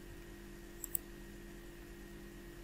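Two quick computer mouse clicks in close succession while working in a Word document, faint and crisp over a low steady electrical hum, with no talking.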